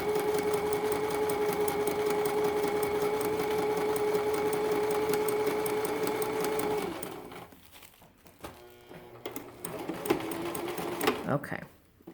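A sewing machine stitches rows of a crazy quilt square, a loud steady motorized hum for several seconds before stopping, followed by quieter handling clatter and a person talking.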